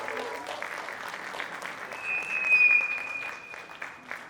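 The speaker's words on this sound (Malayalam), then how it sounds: "നന്നായി ഒന്ന് കൈയടിച്ചേ" An audience at a film trailer launch event claps in sustained applause, dense and even, swelling briefly in the middle, with a sustained tone and scattered sounds above it.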